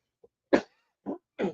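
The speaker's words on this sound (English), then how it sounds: "this cough is really annoying." Several harsh, dry coughs from one person, close and loud, with a faint tick, then a strong cough and two more spaced bursts after short silences.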